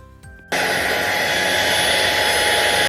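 A Deerma CM800 dust mite vacuum cleaner with UV light switches on with a sudden, loud, steady whooshing roar that drones on without a break, preceded by a brief click of the button.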